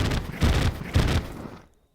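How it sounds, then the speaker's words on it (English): The Solar Eruption flail in Terraria sets off small explosions, three or four quick muffled bursts in a rapid cluster that fade out to silence. "You can see when it first goes out, there are some little explosions there."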